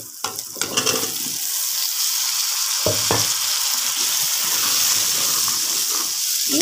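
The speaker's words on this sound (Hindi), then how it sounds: "इन्हें तकरीबन हम 5 मिनट तक फ्राई करेंगे" Potatoes frying in masala for aloo mongray salan, a loud steady sizzling hiss close up after a few clattering stirs at the start and a brief scrape midway.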